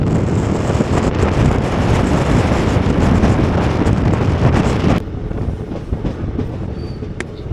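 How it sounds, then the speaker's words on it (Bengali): A local train runs toward Belerhat station with loud, steady rumbling and clattering wheels and wind buffeting the microphone, then the noise drops abruptly to a quieter hum after about five seconds. "আমাদের ট্রেন পৌঁছে গেল বেলেরহাট স্টেশনে"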